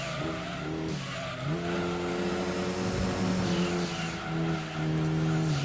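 A Mitsubishi Lancer Evolution races in Gran Turismo 2, its engine droning loudly and steadily with gear changes and pitch shifts, while tires squeal and skid under the continuous motor noise.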